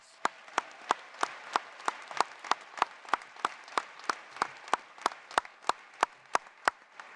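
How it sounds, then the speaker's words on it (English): Rhythmic clapping at a winter commencement ceremony, evenly spaced sharp claps about three per second standing out over a soft background of crowd applause, steady for several seconds with no talk. "Let's give them all a round of applause."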